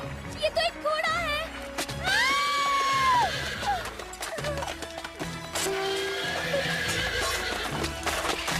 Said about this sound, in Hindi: ये तो एक घोड़ा है।